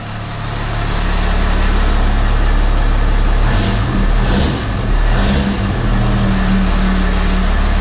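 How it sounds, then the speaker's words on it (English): A 6.7 Cummins diesel drag race truck engine runs steadily nearby, a loud continuous low rumble with a few brief revs midway and no talking. "Start it right up. Air dog seems to be running. Truck's running."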